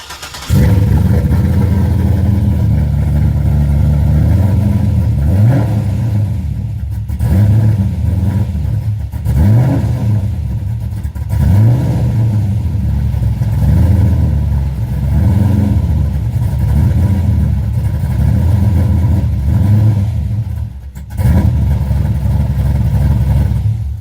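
A Chevrolet Corvette C6 Grand Sport engine runs loud and close, with a throaty idle broken by repeated revs that rise and fall, and a short dip near the end.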